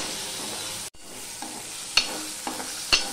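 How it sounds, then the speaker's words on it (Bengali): Tomato, green chilli and ginger sauté in a pan with a steady close sizzle, broken by a few scrapes and taps of a spoon stirring. "আর দিয়ে দিলাম টমেটো আর কাঁচা লঙ্কা দিয়ে এটা আমি কষতে থাকবো"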